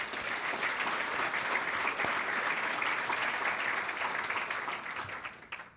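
A civic audience at a city State of the City address in Torrance applauds in a dense, steady wash of clapping that holds for several seconds before tapering off at the end.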